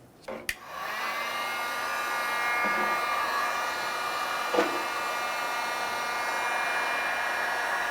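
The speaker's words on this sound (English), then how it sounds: "you can go ahead and use your heat gun. And we're going to heat up around this area" A heat gun blows hot air around the tailgate emblem of a Nissan Frontier pickup to soften its adhesive. A click starts a steady, loud, close whirring roar that runs continuously with one brief knock partway through.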